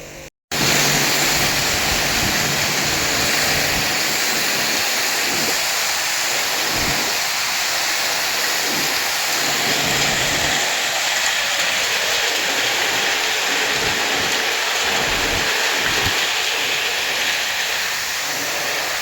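Heavy rain pours down in a steady, dense roar that stays even and loud from start to finish, with no voices over it.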